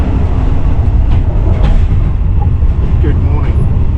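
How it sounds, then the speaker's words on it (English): Night train travelling from Thailand to Malaysia, a somewhat rickety ride: a steady low rumble of wheels and carriage fills the background continuously, with faint intermittent creaks and rattles on top. "The train is a bit rickety."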